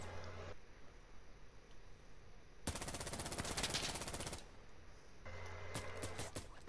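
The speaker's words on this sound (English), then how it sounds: "I dumped two MP7 mags" Sustained automatic fire from an MP7 submachine gun in the Insurgency shooter game, a dense rapid burst of nearly two seconds that stands loud over a quiet background, followed by a few sharp separate shots.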